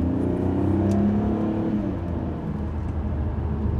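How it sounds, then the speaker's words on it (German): BMW Alpina B3 engine revving as the manual gearbox is downshifted, a steady close, loud low-pitched drone with a slight swell in the first second and then a gradually easing tone, no talk. "Weil es immer noch Spaß macht, in den manuellen Modus zu schalten, runterzuschalten, Gas zu geben."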